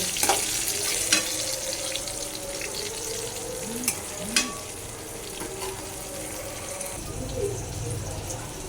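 Eggplant slices frying in a pan on a gas stove, giving a steady close crackling sizzle throughout, with a couple of brief clinks and faint sounds of handling in the background.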